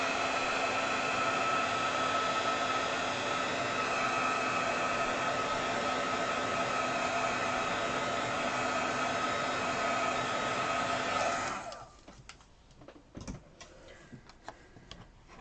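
Craft heat tool blowing a steady, loud whooshing roar while setting black pigment ink on a card, running continuously for about eleven seconds before cutting off, followed by light clicks and taps.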